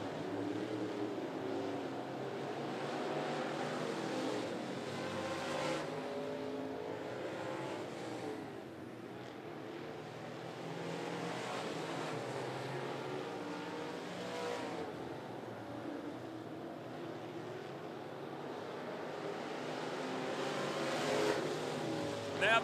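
Modified race cars circle the oval at 411 Motor Speedway, a continuous distant roar of engines swelling and fading as the pack passes, steady and moderately faint throughout.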